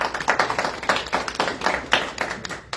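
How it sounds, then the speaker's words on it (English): Scattered clapping from a small audience at a Republican political meeting in Marion County, Tennessee; individual claps stand out in an uneven rhythm, fairly close and moderately loud. "Let's give him a round of applause."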